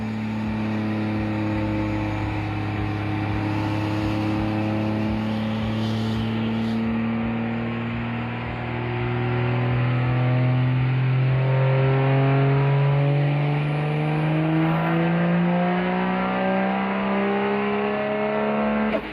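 Truck fitted with an S400 turbo running on a dyno, a loud sustained engine drone that climbs steadily in pitch and then cuts off abruptly at the end.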